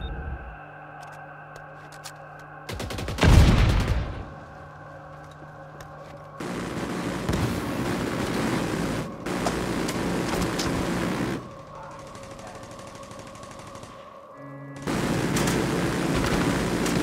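Sustained gunfire from a turret in the video game The Division 2, heard in loud, dense bursts with a sharp impact near the start, then long stretches of steady firing over a humming game soundscape.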